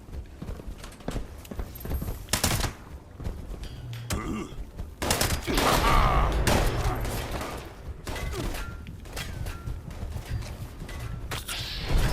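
A combat rifle fires continuously in an online shooter game, loud rapid bursts of gunfire running almost without pause, with dense clattering and pounding throughout.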